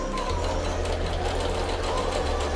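A sewing machine stitches in reverse for a backstitch on a fabric bowl holder, running as a steady, fast mechanical whir with rapid needle rhythm, close by and without talk.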